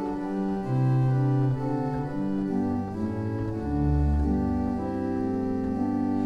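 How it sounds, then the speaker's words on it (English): Sustained chords on a pipe organ's open diapason stop move slowly through a progression with a deep bass line underneath, the broad steady tone filling the space without any voices. "that's the sound of the diapason"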